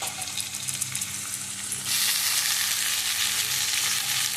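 Chopped tomatoes sizzle steadily in a hot pan while a dhaba-style dal tadka is being cooked, a dense close hiss that swells louder and brighter partway through as they hit the oil, with occasional stirring.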